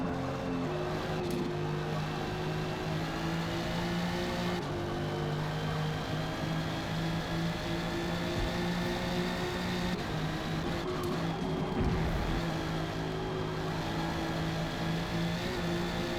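A McLaren P1 engine drones steadily at a high pitch as it laps the Maple track in a racing game, a continuous loud hum with slight shifts in pitch and a few brief changes.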